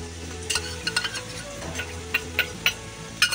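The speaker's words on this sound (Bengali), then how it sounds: "রসুনটা একটু নেড়ে চেড়ে দিয়ে দেবো আমি আদাটা দিয়ে" Garlic and ginger stirred and fried in a pan for biryani, with a steady low sizzle broken by repeated sharp scraping clicks of a spoon against the pan, close and moderately loud.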